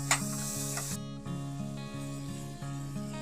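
Sugar and water bubbling into caramel over low heat for an egg pudding, a steady close sizzle running the whole time alongside soft stirring and a sustained background tone.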